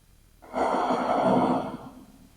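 A single deep, slow breath taken in yoga child's pose, a soft, close, airy exhale rising and fading over about a second and a half in an otherwise quiet room.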